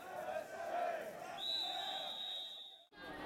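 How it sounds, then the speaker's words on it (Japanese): A crowd at the Takahama Seven-Year Festival, a Japanese shrine festival, cheers and shouts as men hoist a portable mikoshi shrine, with a sustained high whistle-like tone partway through, heard from a distance, fairly faint, before a brief dropout. "勇ましく神輿を担ぎ上げる男衆らに大きな歓声や拍手を送っていました"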